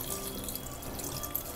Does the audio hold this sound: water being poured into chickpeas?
yes